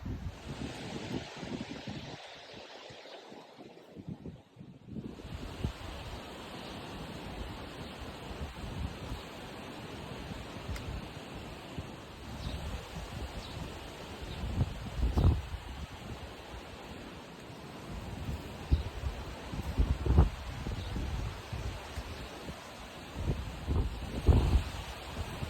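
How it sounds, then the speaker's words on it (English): Strong wind beside the Elkhorn River buffets the microphone in a constant loud roar with heavier gusts, a brief lull near the start, and no voices. "It is so windy out here."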